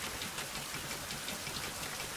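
Heavy rain falls in the survival video game Survival: Fountain of Youth, a steady, fairly faint broadband hiss of downpour that continues evenly with no voices.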